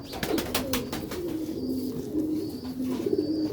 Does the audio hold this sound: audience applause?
no